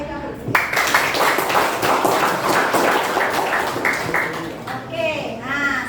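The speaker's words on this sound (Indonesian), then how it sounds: "Aplaus untuk mereka berdua." A classroom of grade 8 students claps for two classmates, a quick burst of brisk applause that fades into voices toward the end.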